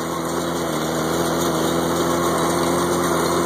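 An IH 656 tractor pulls a New Holland 315 hay baler fitted with a bale thrower, its engine holding a steady, loud drone with a constant mechanical hum and faint rhythmic clatter throughout.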